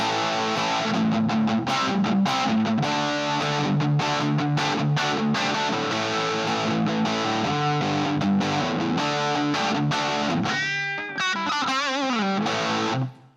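A heavily distorted electric guitar plays sustained riffs through a Greenback 4x12 cabinet, loud and saturated, ending with squealing bends before cutting off.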